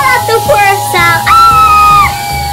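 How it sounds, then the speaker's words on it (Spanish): Voices yell and whoop loudly inside a tunnel on a children's amusement park train ride, with long shouted cries overlapping and a strong echoing ring. "cuando entras al túnel tienes que gritar con toda tu fuerza"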